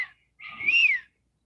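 A single clear, whistled robin phrase rising then falling in pitch, heard alone against silence, with a brief note cut off at the very start.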